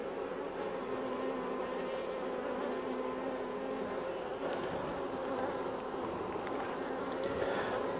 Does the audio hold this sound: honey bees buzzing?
yes